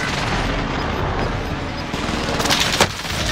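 Gunfire in the video game Warzone: a dense, steady wash of battle noise with scattered sharper shot bursts, a couple of louder cracks near the end, and no talking.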